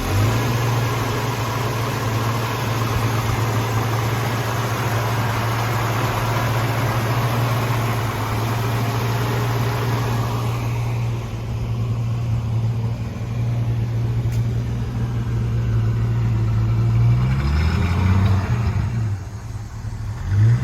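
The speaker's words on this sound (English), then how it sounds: "we're gonna get that engine cranked up, take a look at the engine bay, take it for a test spin" A 1966 Ford Mustang engine runs at a steady, loud idle with a deep low rumble, then revs briefly near the end with rising pitch sweeps.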